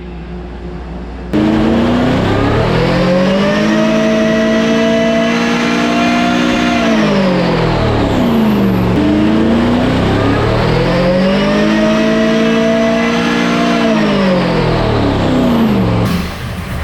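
Supercharged big block Chevy running on methanol with a Holley Dominator, pulled hard on a dyno: two loud sweeping rev cycles with a strong rising and falling blower whine over the engine roar, then a cutoff.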